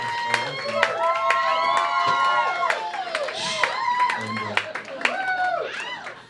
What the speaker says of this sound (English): Let's have a huge round of applause for Shay Ali.